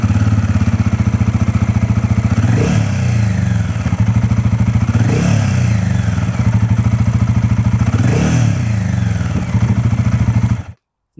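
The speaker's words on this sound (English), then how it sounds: "Let's see how it sounds." Royal Enfield Guerrilla 450 single-cylinder engine idling through its exhaust, a steady loud thumping chug held close and alone, with three brief revs swelling at regular intervals before it cuts off.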